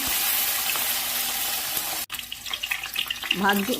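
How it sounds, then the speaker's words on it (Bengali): Marinated tangra catfish fry together in hot oil with a loud, dense, steady sizzle close by. After a brief cut, the sizzle continues more unevenly, with splutters and a few clinks. "মাছগুলো একসাথেই ভেজে নিচ্ছি।"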